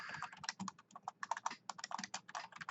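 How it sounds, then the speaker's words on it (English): Rapid, uneven typing on a computer keyboard, close and fairly quiet, with dense clusters of key clacks and no talking. "let me type this out"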